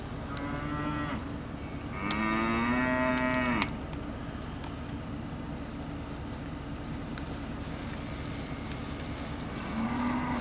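Cattle at a ranch sale moo loudly, with two long, drawn-out lows close by and another starting at the end, over a constant background hum of the sale barn.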